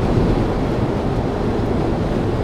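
Heavy crosswind buffeting a Peugeot Rifter as it drives across a large suspension bridge past the cable anchors, a loud continuous roaring rush of wind and road noise with no break.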